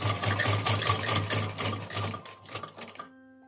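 Sewing machine stitching over a gathered fabric frill, a close, steady rapid mechanical chatter with a rhythmic low thump that runs for about three seconds, then stops abruptly, leaving a faint hum.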